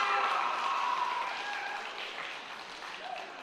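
An audience at a live stage magic show applauds volunteers coming up, with a burst of close clapping that slowly thins and tapers while a faint tone rings out.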